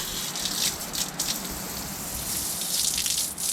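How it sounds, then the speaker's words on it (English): Water runs from the hot and cold mixer-tap shower on the outside of a 2020 Fiat Ducato campervan, a steady close gushing spray with small splashy surges, no talking. "what we've put in this van is an external shower point, which is hot and cold, so it's got a mixer tap on it"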